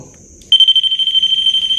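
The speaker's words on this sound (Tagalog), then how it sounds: "mag-alarm lang siya once na may didikit dito or may lalapit dito sa may antenna" A REM pad ghost-hunting device in an abandoned chapel sets off its alarm: a steady, piercing electronic tone starts abruptly after a brief quiet moment and holds loud and continuous to the end.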